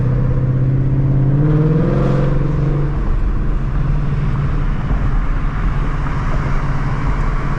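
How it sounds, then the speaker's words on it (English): A V8 car engine at a late-night car meet, heard up close as a loud, steady rumbling idle with a brief rise in pitch like a short rev early on, then settling back to a continuous low drone. "I know it's a V8 though, you can hear it"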